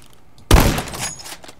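A loud M1903 rifle shot in a video game cracks sharply, followed by a rolling echo and a few fainter trailing reports.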